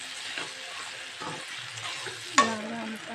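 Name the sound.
stirring okra fry in pan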